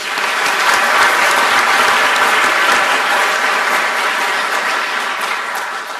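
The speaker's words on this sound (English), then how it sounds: "Let's give them a round of applause, please." Steady applause from a sizable crowd at a school dedication ceremony, a dense wash of clapping that holds at full strength throughout and tapers only slightly at the end.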